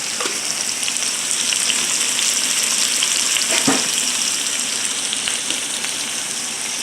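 Garlic and vegetables sizzling in a frying pan, a steady close crackle with small pops throughout and no talking.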